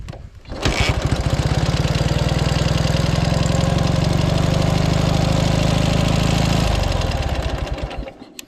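A Dnepr MT11 motorcycle with knobby cross tyres and no muffler idles loudly and roughly close up for several seconds. Its harsh, rapid, popping exhaust beat holds steady, then drops off near the end.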